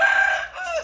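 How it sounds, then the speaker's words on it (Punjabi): A pure Aseel rooster crowing in a village pen, one brief close, loud, drawn-out call standing alone. "ਹੁਣ ਇੱਥੇ ਮੁਰਗੇ ਤਾੜੇ ਨੇ"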